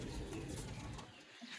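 Sialkoti pigeons cooing in a breeder's loft, soft low coos that are faint and close, mixed with light background noise.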